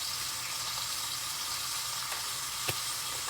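Garlic and onion fry in a pan with a dense, steady hiss of sizzling oil and one brief clink near the end. No voices are heard.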